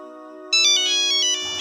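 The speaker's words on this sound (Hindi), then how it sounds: "अंकल फोन आ रहा आपका।" A mobile phone ringtone rings loudly and alone, opening with a steady electronic tone before a brighter melodic phrase comes in and then cuts off.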